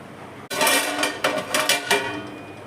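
A lid going onto a wok of cooked greens (Bengali pui shak chachra with fish head), a sharp metallic clank followed by a few lighter rattles and scrapes as it settles.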